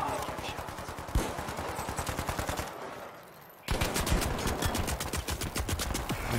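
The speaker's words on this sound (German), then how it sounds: "Scheiß Geschütz." A turret in the video game The Finals fires rapid automatic bursts, loud and close, pausing briefly before resuming in another long stream of shots.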